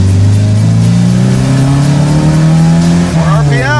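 A cheap project car fitted with a KTM dirt bike muffler as its exhaust tip revs hard, a loud rising engine drone climbing in pitch, with tire squeal near the end and people talking over it.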